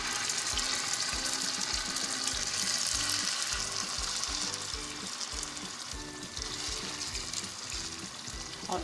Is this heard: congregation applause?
no